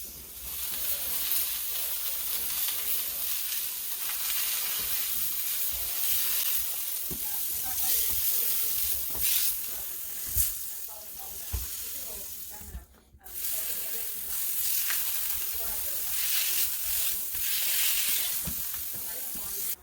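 Butter sizzles and hisses steadily in a frying pan for French toast, a close, loud, continuous crackle with occasional scrapes. People talk in the background.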